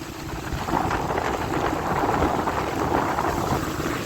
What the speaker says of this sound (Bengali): এত হেভি রেনফল হচ্ছে যে চোখও খুলে তাকানো যাচ্ছে না